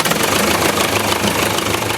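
The engine of a restored Silver Centenary biplane starting up, a loud continuous rough rumble with a knocking texture close by, with no voices over it.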